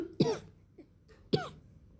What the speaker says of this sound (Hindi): सॉरी फ्रेंड्स, खांसी आ गई थी।